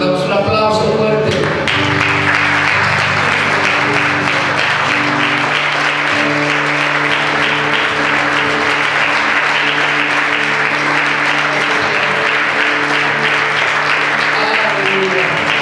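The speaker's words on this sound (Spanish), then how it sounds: "Por eso, Señor, te damos un aplauso fuerte" A church congregation claps loudly and continuously, a dense, sustained roar of applause that fills the space from start to finish.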